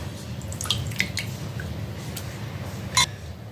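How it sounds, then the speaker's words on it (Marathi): Water drips and trickles from washed poha being squeezed by hand into a cooking pot, a few soft splashes and drips over a low steady background, close and quiet, with no talking. "असे पिळून घ्यायचे आणि ह्या दुसऱ्या पातेल्यामध्ये टाकायचे"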